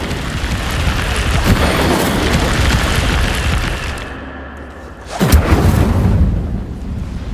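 An Incendio fire spell in the Hogwarts Legacy video game roars as a loud, sustained fiery blast, fades briefly, then flares again with a second sharp whooshing burst and crackling flames.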